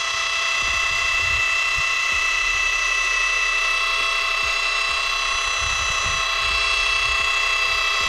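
Polishing machine running at low speed on a surface being treated with Neoxal Nox88 primer, giving a steady, loud, continuous whine with many sustained tones, alone without talk.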